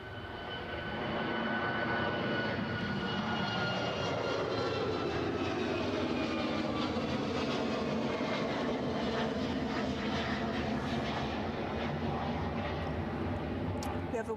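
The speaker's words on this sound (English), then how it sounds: "But Air France first, and it's off to Paris Charles de Gaulle" An Air France jet departs Edinburgh for Paris Charles de Gaulle with a loud, steady, broadband engine roar that swells within the first second and holds, close and unbroken, to the end, with no talking.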